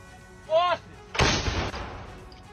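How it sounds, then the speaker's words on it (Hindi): Ukrainian army howitzer artillery firing on Russian positions in Donetsk: a single loud, close blast with a long rumbling decay, preceded by a brief rising whine. "यूक्रेनी सेना ने हविजर तोप से रूसी सेना के ठिकानों पर हमला बोला।"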